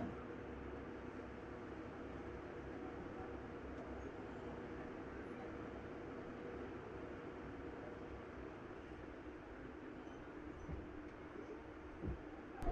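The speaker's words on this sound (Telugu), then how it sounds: "మనమైతే ఉండి స్టేషన్ నుంచి అయితే మెల్లిగా బయటకు అయితే వస్తాము" A MEMU express train pulling slowly out of Undi station, a low continuous rumble of the carriage rolling under faint background hum, steady and fairly quiet, with a few brief knocks near the end.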